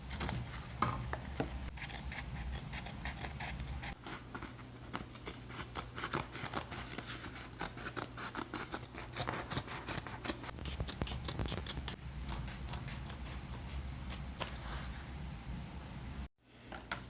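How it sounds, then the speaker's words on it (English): Scissors snip and rasp through photo paper, trimming off excess white in a steady run of short cuts, close and fairly quiet, with brief pauses between strokes. "Let's go ahead and trim off the excess white with our scissors."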